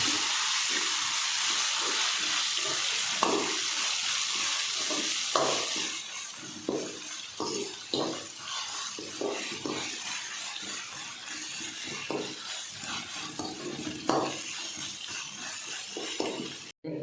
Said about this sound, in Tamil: இது ஒரு 2 நிமிஷம் பச்சை வாசனை போகிற வரைக்கும் நல்லா மிக்ஸ் பண்ணிக்கலாம்.